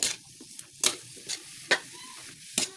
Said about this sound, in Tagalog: Gisa na natin lahat mga kumare.